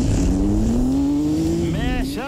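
Jeep Trackhawk engine pulling hard and close, the pitch climbing steadily before sharp drops as the transmission shifts gears twice near the end, with loud rumble throughout.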